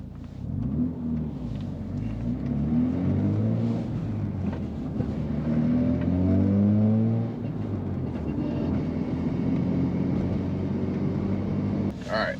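A Mazda RX-7's rotary engine comes to a stop with the clutch in and settles to a steady idle near 1,000 RPM, its low rumbling hum sweeping in pitch before holding even, with someone talking over it at times.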